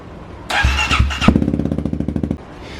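A Kawasaki KLX300 dirt bike fitted with a Barkers exhaust cranks and fires up, catching at once into a loud, sharp, pulsing idle that sputters for a couple of seconds before cutting off, close by with no talking.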